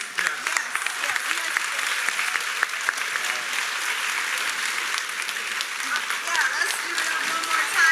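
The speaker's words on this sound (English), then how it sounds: "another round of applause for them" Sustained audience applause fills a student keynote session at a conference, a dense, even wash of many hands clapping steadily from start to finish without a break.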